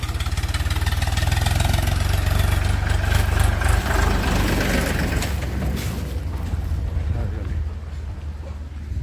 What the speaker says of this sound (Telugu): ట్రాక్టర్ దారిని ఒక ట్రాక్టర్ వస్తుంది చూడండి.